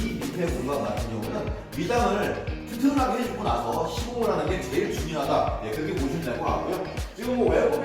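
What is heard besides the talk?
No everyday noise stands out behind the speech.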